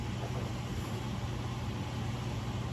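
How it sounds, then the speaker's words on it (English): Home furnace fan running steadily, a constant broadband whoosh with a low hum, continuous and even throughout with no talk. "you can hear our furnace fan right now"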